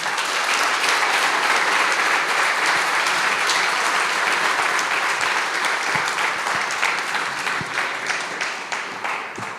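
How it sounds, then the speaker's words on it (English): Startup Grind Wichita audience applauding after a bank executive's talk, a dense, loud wall of clapping that holds steady for nearly ten seconds before slowly tapering. "Let's give Ron a round of applause."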